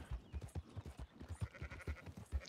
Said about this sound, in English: We got some sheep.